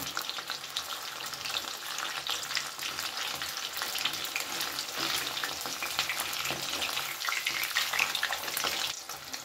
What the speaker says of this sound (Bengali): গ্যাসের ফ্লেমটাকে মিডিয়ামে রেখেই আমি কিন্তু এগুলো ভেজে নিচ্ছি হালকা হাতে